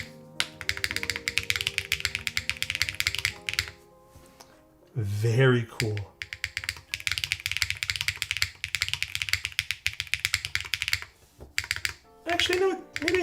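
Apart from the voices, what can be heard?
typing on a custom mechanical keyboard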